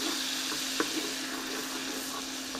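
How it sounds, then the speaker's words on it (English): Garlic sizzles in melted butter in a hot pan before a ribeye steak goes in, a steady close frying hiss with a few light stirring clicks and no talk. "Throw a wee bit of garlic in there. I'm loving that sound."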